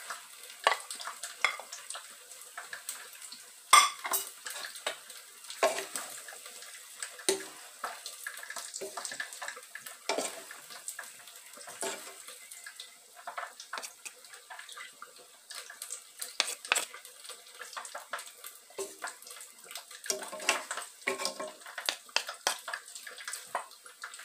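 Shrimp are added to a pan and stirred, with scattered clinks and scrapes over a soft sizzle, irregular and fairly quiet, with no talking.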